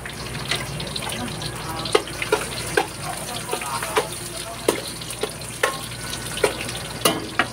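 Lemongrass sautéing with crushed garlic and onion in hot oil: a soft continuous sizzle with regular sharp clacks of a utensil stirring against the pan, close by, and some talking in the background.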